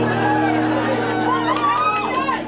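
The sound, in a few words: concert audience cheering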